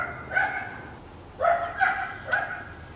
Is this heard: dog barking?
yes